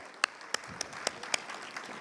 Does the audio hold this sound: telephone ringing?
no